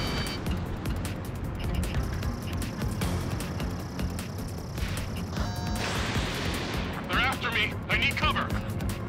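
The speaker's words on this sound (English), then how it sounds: "Missile away." Missile launches and gunfire in the Ace Combat 7 flight-combat video game make a dense, steady roar of jet and weapon noise, with sharper bursts near the end, under radio voices and music.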